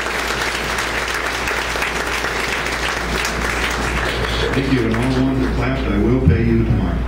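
Dense, steady audience clapping after a live song continues throughout, with a singer's voice briefly starting to talk over it near the end.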